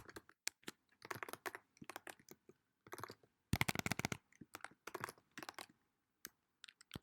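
Python code being typed on a computer keyboard, with irregular bursts of close key clicks, a dense flurry in the middle and short pauses between runs.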